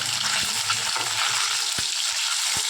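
Duck eggs fry in hot oil with a steady, close sizzle, while a few low knocks and thumps from the pan break through now and then.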